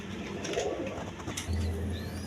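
A pair of healthy female pigeons on a pigeon farm give a soft, low coo near the end, under light background noise and with no talking.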